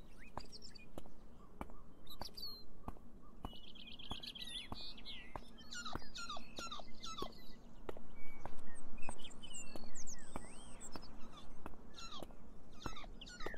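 Birdsong in the video game Beyond Eyes: several birds chirp and trill in quick overlapping phrases against a soft ambient bed, interrupted by sharp periodic clicks, with no talking.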